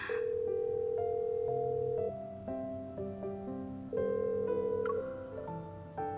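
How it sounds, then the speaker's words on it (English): An unanswered phone call in the Love and Deepspace video game rings out as a series of steady electronic tones in a repeating melodic pattern, clear and alone with no voices. "I reach out my phone and call Xavier."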